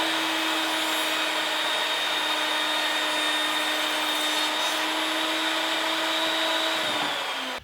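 A router fitted with a slot-cutting bit cuts into a piece of MDF, giving a loud, steady high-pitched whine with a constant hiss of cutting that runs close and alone until it stops abruptly at the end.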